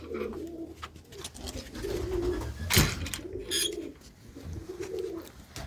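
Pigeons, including a large tailed pigeon and its blue young, give soft, low repeated coos in a slow rolling rhythm at close range, with a sharp brief noise midway and no speech.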